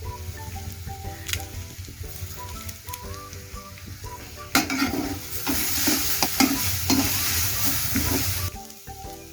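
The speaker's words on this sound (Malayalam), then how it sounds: "ആ പൊടി കൂടിയിട്ട് നമ്മൾ കഴുകി വെച്ചിരുന്ന മല്ലിയില ഇട്ടു." Masala powder and coriander leaves frying in a pan for north Indian style aloo masala fry, stirred with a spatula that scrapes and taps. The sizzle jumps louder about halfway through, then cuts off abruptly near the end.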